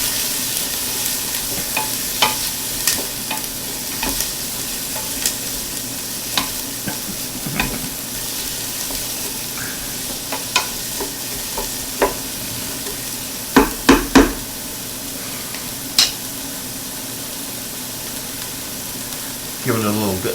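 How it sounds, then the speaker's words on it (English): Garlic sautéing in a pan for beef bolognese hisses in a steady, close sizzle, punctuated by scattered clacks and scrapes of a utensil, a cluster of sharper knocks coming late on. "I put the garlic in, because if I put the garlic in and saute it now"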